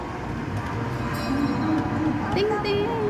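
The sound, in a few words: train ride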